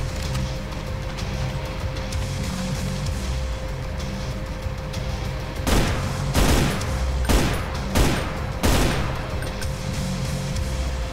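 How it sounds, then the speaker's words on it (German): Enemy gunfire in the Brutal Doom game, with several sharp shots and short bursts fired in quick succession over a steady background hum. "Ich glaube, die schießen auf uns."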